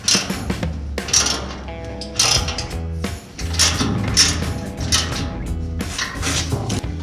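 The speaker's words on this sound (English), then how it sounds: "let's get these rear mounts bolted to the frame" Rear spring mounts being bolted to the frame of an M416 trailer during a mock-up with a new axle and leaf springs, heard as repeated metallic ratcheting and clanking in bursts, fairly loud and close, with no talk.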